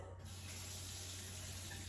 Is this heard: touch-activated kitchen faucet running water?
yes